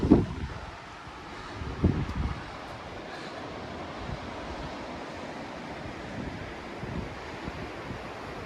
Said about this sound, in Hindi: इस वक्त बहुत हवा चल रही है